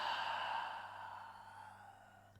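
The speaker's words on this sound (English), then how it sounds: "Push out of the mouth. Exhale." A single forceful breath pushed out through the mouth during a yoga breathing exercise, a close, breathy exhale that fades gradually over a couple of seconds with no talk.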